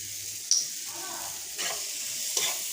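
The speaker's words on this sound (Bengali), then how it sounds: "তারপরে মরিচের গুঁড়ো, ভালো করে নাড়িয়ে দেবো।" Chili powder being stirred into koi fish and egg frying in a pan, a steady sizzle with a few brief scraping stir strokes.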